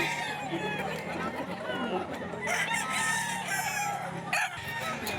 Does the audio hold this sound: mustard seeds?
no